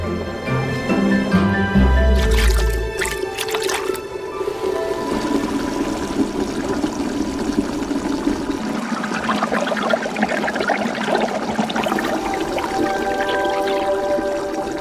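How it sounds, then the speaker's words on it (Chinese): Water pours and splashes steadily, then settles into a continuous bubbling, rolling simmer as shrimp are quickly blanched in boiling water. "开水快灼，虾体表面微红，蛋白质刚刚凝固。"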